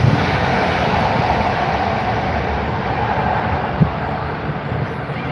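A Qantas airliner in special livery touches down on runway 14 at the Gold Coast, its engine and rolling roar a loud, steady broadband rumble heard close and alone.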